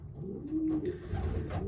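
Racing pigeons cooing up close in a loft, a soft low throaty coo rising and falling over a couple of seconds, with no talk over it.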